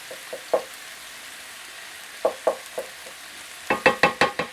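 Chicken cassoulet cooking in a pan, with clusters of close, sharp knocks and taps of a utensil against the pan over a faint sizzle and no talking.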